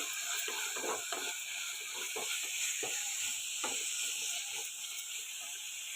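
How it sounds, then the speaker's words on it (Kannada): Tomatoes fry lightly in a pan for a sprouted green gram stir-fry, giving a steady sizzling hiss broken by soft scraping stirs at an irregular pace, fairly quiet and close, with no voices. "ಟೊಮೊಟೊ ಫ್ರೈ ಆಗ್ತಾ ಇದೆ"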